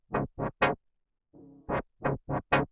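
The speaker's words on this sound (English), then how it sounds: "It's this particular sound which I've automated with the filter. It sounds like this." A synthesized music stem sound with filter automation: three short, bright stabs, a brief low buzzy tone, then four more stabs, each sweeping in brightness, played quietly with no voices.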